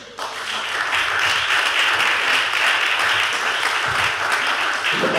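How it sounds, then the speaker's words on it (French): A congregation applauds at a closing celebration of a Bible anniversary, dense clapping rising sharply after a brief quiet start and holding loud and steady to the end, with a faint voice low underneath. "Sous vos applaudissements, s'il vous plaît."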